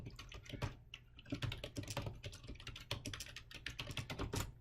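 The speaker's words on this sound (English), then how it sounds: "type a message to Alan" Rapid, uneven keystrokes on a computer keyboard while a chat message is typed in Microsoft Teams, close and fairly loud, with dense clicking throughout and no speech.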